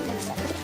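Pigeons cooing close by in a continuous low, throaty murmur, a short burst of the squabbling birds with no talk over it.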